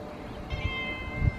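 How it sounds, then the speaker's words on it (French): A cat gives a short, soft meow close by, with faint handling noise and bumps around it. "Muffin c'est le chat de ma soeur"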